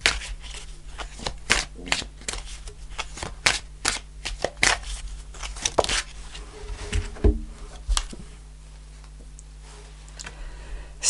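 Message from Heaven oracle cards are shuffled close up in quick, papery riffles and flicks that run in bursts, then ease off into quieter handling near the end.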